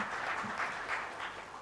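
An audience at a technology leadership summit claps to welcome a speaker to the dais, a brief dense wash of applause heard alone.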